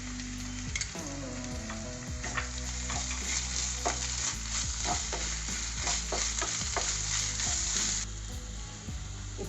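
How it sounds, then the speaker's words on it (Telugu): Ginger garlic paste frying with browned onions in a pan, a dense continuous sizzle broken by frequent scraping strokes of a stirring spoon, close and steady. "దీనికి 1 టేబుల్ స్పూన్ అల్లం వెల్లుల్లి పేస్ట్ వేసుకొని వేయించుకోవాలి."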